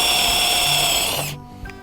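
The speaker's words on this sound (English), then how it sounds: "and drill the hole" A power drill whines steadily through wood for over a second while drilling a leg hole in a wooden reindeer, then cuts off abruptly, leaving a faint knock.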